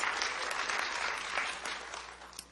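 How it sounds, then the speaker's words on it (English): A room full of people applauding in a city council chamber, steady dense clapping at moderate volume that stays even for a couple of seconds. "Get a round of applause."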